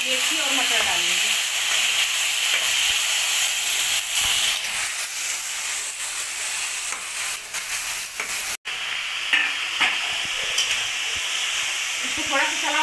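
Food frying in a pan hisses and sizzles loudly and continuously, with occasional clatter of stirring and brief voices in the background.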